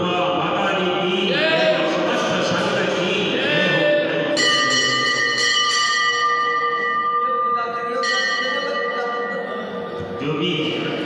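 Bells ring in a Jain temple during a sermon, bright metallic strikes sounding repeatedly over a murmur of voices and a busy crowd.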